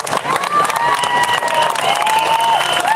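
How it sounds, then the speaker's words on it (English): A rally crowd applauds and cheers for fellow patriots outdoors, loud and sustained clapping mixed with voices and a few whistles or shouts rising over the din. "I want to give one more round of applause to all of these patriots"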